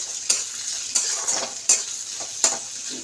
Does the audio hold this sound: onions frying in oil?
yes